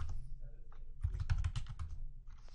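Keys tapped on a computer keyboard to enter a router password in a Cisco network lab, a quick burst of close, soft clicks with a faint voice underneath.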